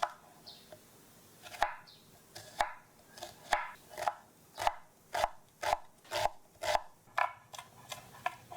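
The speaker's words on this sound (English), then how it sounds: "While waiting the pan is hot, I'm going to chop the onion." A knife chops onion on a cutting board in a home kitchen, a steady run of about a dozen sharp, close knocks at an even rhythm, with no voices.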